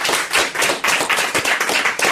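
Studio audience of a French talk show claps for a guest named Takashi, a brisk, loud burst of hand clapping with a pulsing rhythm and no talk over it.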